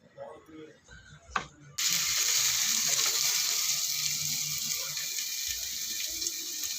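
Chopped onions hit hot oil in a pan while making an egg gravy, setting off a sudden loud, steady sizzle that holds for several seconds after a brief clatter and quiet kitchen sounds.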